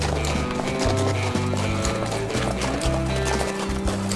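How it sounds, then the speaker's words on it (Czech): Horse hooves clop in a steady walking rhythm in the forestry simulator game Forestry 2017, loud and close over a continuous game background hum. "jak slyšíte dupání toho koně"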